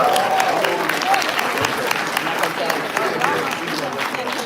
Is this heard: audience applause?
yes